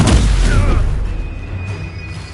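A Confringo blasting spell exploding in Hogwarts Legacy on PS5, one loud close boom at the start that rolls off into a low rumbling tail, with a faint voice under it.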